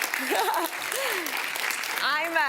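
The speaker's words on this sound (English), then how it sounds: "give yourself seriously a round of applause for being here" Seminar audience applauding, a broad wash of clapping from many hands running under a speaker's voice, which rises and falls over the crowd.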